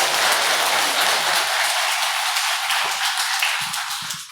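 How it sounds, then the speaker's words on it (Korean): A Catholic audience in a confirmation class gives the priest a big round of applause, dense loud clapping filling the whole stretch and tapering slightly toward the end. "다시 더 강의해 주신 우리 신부님 위해서 큰 박수 좀 부탁드리겠습니다"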